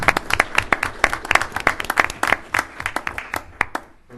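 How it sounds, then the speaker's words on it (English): A small group at a village board meeting claps for a department, distinct individual hand claps in an uneven, fairly close rhythm that thins out toward the end. "I think his department deserves a round of applause"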